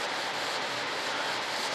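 Steady abrasive rubbing of sandpaper across a model RC jet airframe, an F-105 Thunderchief, as a dense, continuous hiss close up.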